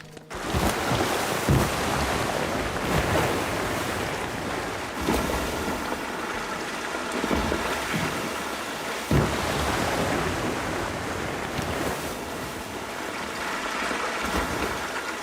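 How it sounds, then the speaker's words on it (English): A rider goes down an indoor waterpark water coaster amid a steady roar of rushing water and wind. The loud, continuous whoosh has surges throughout, with no voices. "Let's ride the water coaster one more time."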